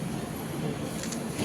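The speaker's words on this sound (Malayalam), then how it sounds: "ഇവിടെയും ട്രെയിൻ" Steady low rumble of a train, a continuous rail-like drone with faint higher hiss, heard alone without talk.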